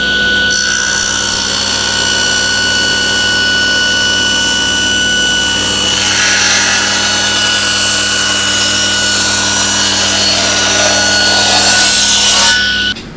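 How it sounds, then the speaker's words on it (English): A table saw runs loud and steady as timber is pushed through with a Micro Jig gripper, the blade whine holding level for about twelve seconds of continuous cutting before it cuts off. "Turn on the saw, pushing it through."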